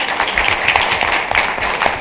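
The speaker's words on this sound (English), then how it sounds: "Now we can clap." Dense, steady applause from the audience at an annual fatherhood summit in Los Angeles, a continuous wash of many hands clapping at moderate volume with no talk over it.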